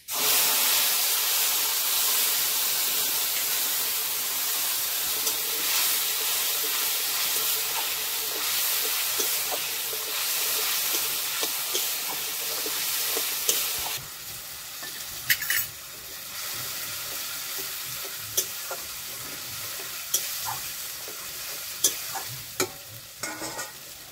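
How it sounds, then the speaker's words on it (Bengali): Ground spice paste sizzling as it hits hot oil in a pan for a vegetarian paneer and potato curry, a loud hissing burst that settles into a quieter fry with occasional stirring scrapes. "আর দিয়ে দেবো এখন এই বাটা মশলা"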